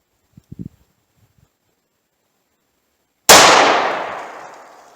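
A single sharp, loud shot of .38 Special ammunition is fired from a lightweight alloy .357 Magnum revolver, its report decaying over about two seconds after a few faint handling clicks.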